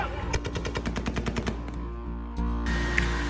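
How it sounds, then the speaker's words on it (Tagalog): US soldiers fire guns into the air as a warning in Afghanistan, a rapid automatic burst of about a dozen sharp, evenly spaced shots at close range, then the fire stops and a steady background roar remains. "Iilang sundalo ng US ang nagpaputok ng baril sa taas para lamang bigyan ng warning ang mga taong nagdadagsaan."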